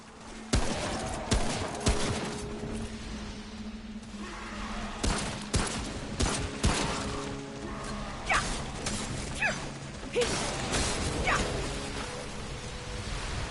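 Rapid gunfire bursts from the video game Remnant From The Ashes, dense and chaotic, with sharp repeated shots over a busy mix of other game sounds.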